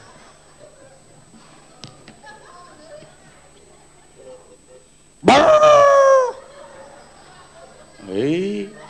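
During a stage comedy concert, two loud, drawn-out dog-like whines and yelps rise and fall, the first lasting about a second and a shorter one following, after a stretch of quiet murmuring and faint clicks.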